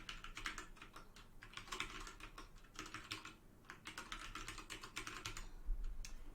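Rapid clicking of keys on a computer keyboard as a name is typed in, steady bursts of close, crisp keystrokes with short pauses between, no voices.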